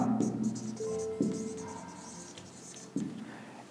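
Pen writing on paper during a maths lesson, soft scratchy strokes in short bursts with a few light taps, while someone talks intermittently over it.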